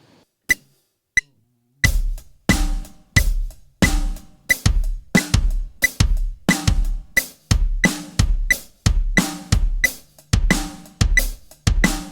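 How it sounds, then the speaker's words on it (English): A drum kit plays a steady groove, with closed hi-hat eighth notes over a snare hitting the backbeat and kick underneath, after a few isolated opening taps. "the basic way to play is just an 8th note pulse on the hi-hat,"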